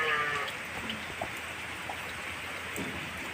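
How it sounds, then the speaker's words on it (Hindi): Steady rain pours down on a flooded rural yard with water everywhere, a soft continuous hiss of drops on wet surfaces, with brief faint patters standing out and a possible distant animal bleat. "सोचे वो वीडियो बना लेते बारिश की"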